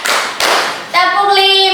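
Students in a high school group clap together in counted beats, a pair of sharp broadband claps in quick succession, then a voice speaks over the tail without clapping.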